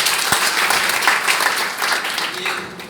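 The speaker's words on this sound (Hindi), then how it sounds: "उनके लिए जोरदार तालियां होना चाहिए।" An audience breaks into loud, sustained applause, dense clapping that swells at once and gradually tapers toward the end.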